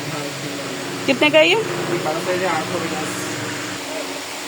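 A ceiling fan in a crockery store keeps up a steady, even hum through the whole stretch, while people talk over it.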